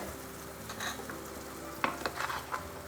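Spice paste poured into a hot pan with tempered spices for egg korma, a soft steady sizzle with a few brief scrapes and clinks of stirring, fairly quiet.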